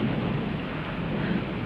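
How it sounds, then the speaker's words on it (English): Loud, continuous thunder rumbles close by during a storm, with a dense wash of rain underneath and no voices. "That's only thunder."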